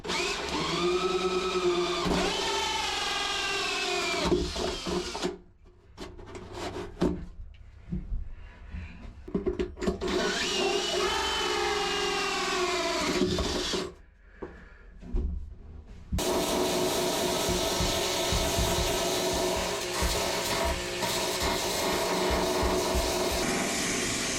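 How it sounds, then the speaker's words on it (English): A power tool cuts into fresh fiberglass while anchor locker drain holes are made on a boat, a loud whirring, rasping grind in several bursts separated by short pauses, then a steady harsher cutting run at the end. "start cutting into my fresh fiberglass"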